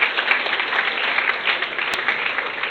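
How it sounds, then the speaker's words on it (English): An audience at a community forum claps steadily, a dense and even round of applause from many people that lasts the whole stretch. "Let's give him a big round of applause."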